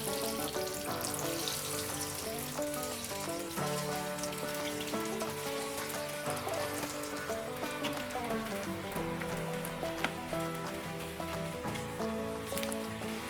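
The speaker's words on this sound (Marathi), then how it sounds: "आता आपण नगेट्स लगेच तळून घेऊया." Paneer nuggets deep-fry in hot oil over a medium-high gas flame, giving a dense, steady crackle that continues throughout beneath background music.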